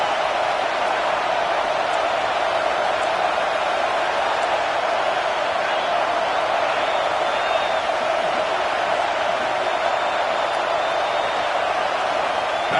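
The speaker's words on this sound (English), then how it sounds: "This crowd is trying to inspire this defense to make a big red zone stop." Stadium crowd roaring at a college football game against Nebraska as the home defense tries for a red zone stop, a dense, steady wall of crowd noise throughout.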